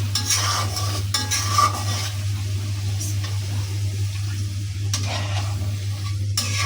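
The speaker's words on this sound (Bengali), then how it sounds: "মশলাটা ভালোভাবে কষাবো।" Spice paste with green chilies and a splash of water is stir-fried in a pan, a continuous close sizzle with periodic scraping and clinking of a spatula over a steady low hum.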